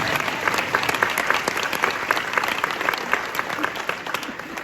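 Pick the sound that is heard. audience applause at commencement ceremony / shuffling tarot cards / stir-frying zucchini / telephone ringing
audience applause at commencement ceremony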